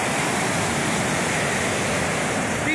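Big waves surging on a Lake Michigan beach, a loud steady broadband wash of surf filling the whole stretch without pause, close and constant with no voices.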